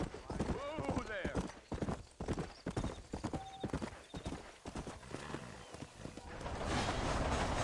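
Horse hooves clip-clop steadily in the Red Dead Redemption video game, a rhythmic trot under spoken dialogue, with a horse whinny and the pace picking up toward the end.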